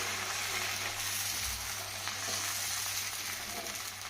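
Batter sizzles and fries steadily in a hot pan, a dense, continuous crackle close by that holds for the whole stretch, with no voices.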